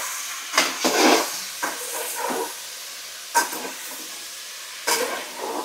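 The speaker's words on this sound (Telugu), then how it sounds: "టమాటా ఇలా కలుపుకోవాలి ఒకసారి" Tomatoes stirred in a pan for paneer vegetable biryani, heard as a few separate bursts of hissy scraping and sizzle spaced seconds apart over a soft, quiet background.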